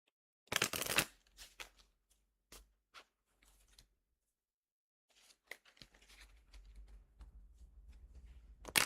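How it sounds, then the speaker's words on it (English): Someone shuffles a deck of cards up close at whisper volume: a quick riffle burst, then scattered soft taps and slides, a pause, and a longer stretch of quiet rustling handling. "Okay, Kai, I'm shuffling this deck, and I'm gonna keep shuffling until you tell me to stop."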